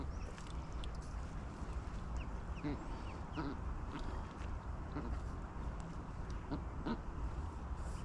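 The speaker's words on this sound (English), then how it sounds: "ducks wandered all the way up here again" Ducks quack intermittently at a fishing match venue, in short calls spread across the clip over a steady outdoor background of wind and water.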